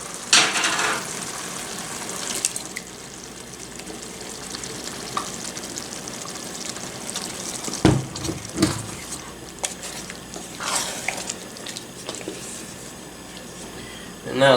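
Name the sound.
cheap salsa added to camp chili, sizzling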